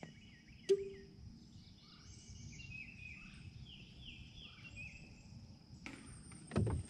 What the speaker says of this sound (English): Go tell your friends there's some crickets out here.